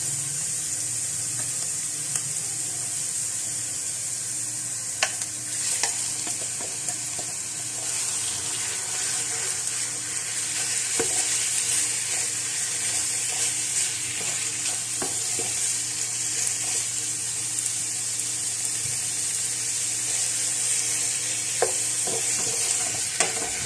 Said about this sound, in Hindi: अब जो चिकन हमने मैरिनेट की थी वो डालेंगे।